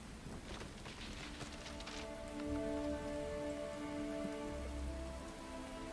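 Rain falls steadily on a surface as an effect during a Curse of Strahd tabletop role-playing session, a continuous dense patter with a faint tonal hum beneath, no voices.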